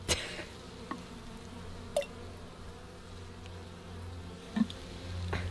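A honeybee at a hive, trying to get in, gives a faint, steady buzz with a few soft taps and knocks over a low background hum.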